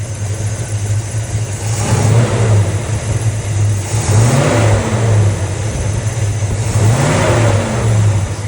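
A 1966 Chevrolet Fleetline convertible engine fitted with a Holley carburetor idles and then revs up in three rising swells, loud and close, with no talking.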